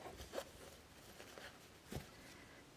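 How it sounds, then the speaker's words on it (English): A soft, brief pull closing a zipper on a sewn fabric pouch, with two quiet rasping bursts in an otherwise hushed setting. "I'm going to pull the zipper up gently."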